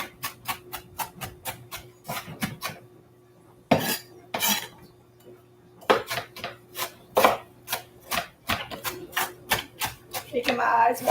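A knife chopping onions on a kitchen counter, rapid rhythmic taps in bursts with brief pauses and a few heavier knocks, close and crisp, with occasional talk between strokes.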